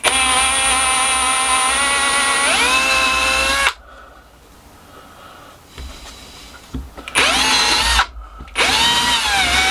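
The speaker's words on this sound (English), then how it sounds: "get a drill, and then all I'm going to do is just drill 4 holes" A power drill whines loudly at close range, drilling holes in a log in two bursts with a quieter pause between, its pitch dipping as the bit bites in.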